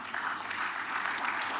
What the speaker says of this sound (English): Please, can we give them a round of applause, ladies and gentlemen?